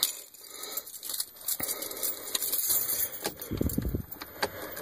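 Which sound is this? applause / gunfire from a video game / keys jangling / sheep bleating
keys jangling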